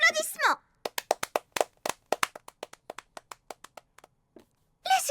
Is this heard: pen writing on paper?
no